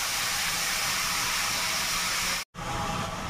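Grated red carrots dropped into a hot wok for carrot halwa give a loud, steady broadband sizzle that continues alone, broken by one brief dropout before the hiss resumes.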